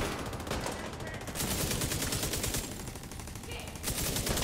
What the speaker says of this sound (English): Your suppressing fire is really hurting here.